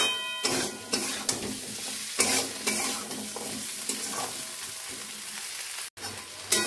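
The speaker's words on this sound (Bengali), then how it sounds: "পরিমাণ মতো দিয়ে দেব লবণ, তার সাথে এদিকে আদা, আর এদিকে রসুন বাটা যেটা সেটাও দিয়ে দিলাম। চলো ভালো করে এবার নেড়ে নিই।" Ghugni with salt, ginger and garlic paste is stirred in a pan, a soft sizzle broken by several scraping strokes of the spoon at an uneven rhythm, close and fairly quiet.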